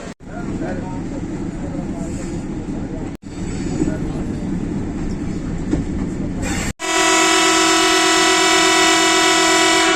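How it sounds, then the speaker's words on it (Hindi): Pakistan Railways locomotive PH208308 couples to the Rawalpindi passenger train at Rawalpindi station, a loud rumbling diesel engine with platform noise, then a long, steady, piercing horn blast near the end. "लोकोमोटिव PH208308 कपल होने के लिए आ रहा है रावलपिंडी एक्सप्रेस के साथ, रावलपिंडी पैसेंजर के साथ।"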